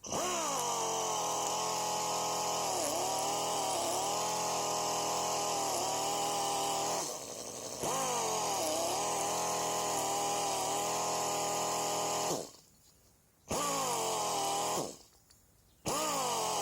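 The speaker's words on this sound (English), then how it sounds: "I'm quickly going to run my pneumatic driller at low air feed so it can go" Pneumatic driller run at low air feed, a steady droning motor hum with wavering pitch that cuts out twice into near-silence before restarting, heard close with no talk.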